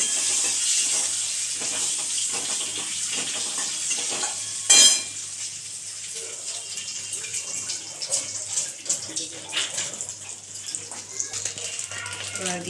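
A whole dried red chilli sizzles in hot oil in a home pan while cooking khichuri, a continuous hissing fry with a brief sharp burst partway through, and voices talk faintly alongside.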